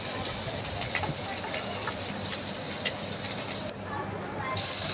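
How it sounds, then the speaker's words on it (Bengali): Chopped onion and green chilli fry in oil in a wok, giving a continuous close sizzle and crackling hiss that dips briefly before flaring up again at the end. "তো কড়াইতে তেল দিয়ে পেঁয়াজ কুচি লঙ্কা কুচি দিয়ে দিলাম"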